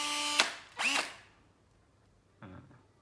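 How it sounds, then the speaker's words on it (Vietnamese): A power drill sold for concrete work spins up in short free-running bursts: a quick whir, a longer rising whine, then a brief final burst after a pause, all close and fairly quiet. "Đang khoan bê tông mà cầm thế này là rất là chắc chắn luôn."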